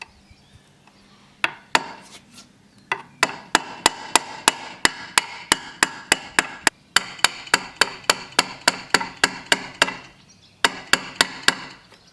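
Sharp metallic hammer strikes on a 3mm drill bit used as a punch, driving out a pin on a Tohatsu two-stroke outboard, ring out in steady series, roughly two or three per second, with brief pauses, close and loud.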